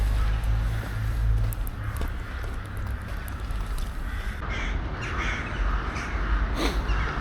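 Crows caw repeatedly in a snowy, foggy winter town of old buildings, their harsh calls scattered over a constant low rumble of outdoor background noise.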